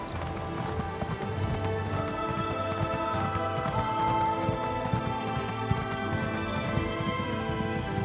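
Horse hooves clip-clop in the Elder Scrolls Online video game, a steady riding rhythm of rapid footfalls over game music and ambience, moderately loud and continuous, with no speech.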